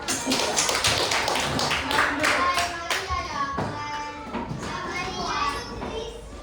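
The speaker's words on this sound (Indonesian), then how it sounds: "Kita tepuk tangan kepada kelompok." Children in an Indonesian primary classroom clap for a group during a language lesson, loud, brisk and somewhat ragged, with young voices chattering and calling out over the clapping.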